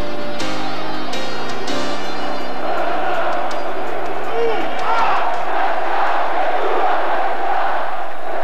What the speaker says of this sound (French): Et écoutez la foule.